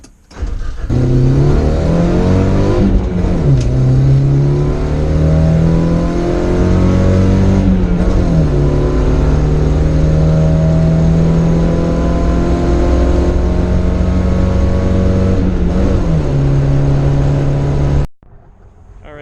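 A truck engine drones loudly as it drives, rising through the gears with repeated pitch climbs and brief drops at each shift, then cuts off.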